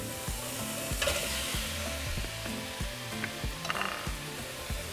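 Meat frying with onion, serrano chile and cilantro, a soft continuous sizzle under a rhythmic low mechanical pulsing, moderately quiet with no voices.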